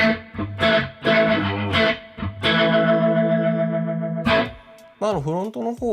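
Electric guitar through a Strymon Lex V2 rotary speaker pedal set to the front mic position, with loud strummed and sustained chords swirling up close, and a voice speaking briefly at the end.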